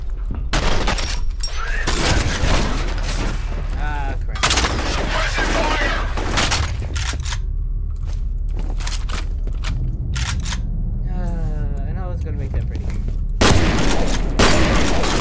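Shotgun and other gunfire in the F.E.A.R. shooter game, heavy booming blasts and rapid bursts repeating through the stretch, loud, with little talk.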